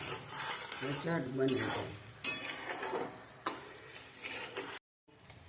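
Sugar syrup bubbles in a pan over a high gas flame, with a frying-like fizz and clinks of a utensil against the pan, and someone speaks briefly over it.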